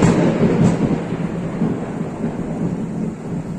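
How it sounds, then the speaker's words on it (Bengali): A loud thunderclap rolls through a thunderstorm, a dense, heavy rumble that starts at full strength and holds steady before easing slightly, with no voices over it. "জোরে বাজ পড়লো"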